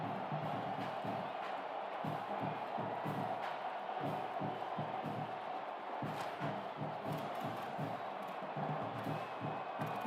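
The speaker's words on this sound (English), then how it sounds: "This crowd, full throat, splitting the eardrums and letting them know it's going to be a long day" A football stadium crowd at a Ducks vs LSU game roars in a loud, sustained full-throated cheer that fills the whole stretch, with no break in the wall of noise.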